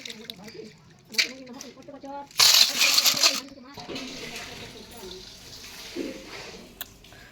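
Metal utensils for Lakshmi puja are washed with water, bringing clinks, knocks, splashes and trickling, with one louder burst of running water partway through, while someone talks over the washing.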